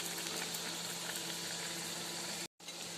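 Vegetable rolls frying in hot oil, a steady dense sizzle and bubbling that fills the clip, constant and close, with a brief cutout near the end and no talking.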